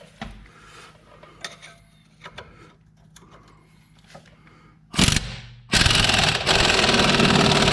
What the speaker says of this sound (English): I had to put a little bit of an extension on my impact wrench to get at the bottom one